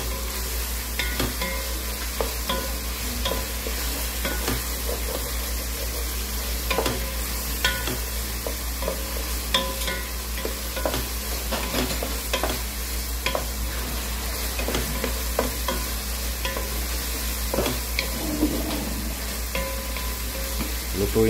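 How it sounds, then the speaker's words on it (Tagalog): Tomatoes sauté in a pan for sinigang na bangus, a steady close sizzle broken by frequent scraping and tapping of a utensil stirring and crushing them, with no voices. "Kailangan nagdudurog yung kamatis sa gisa pa lang para humalo sa sabaw."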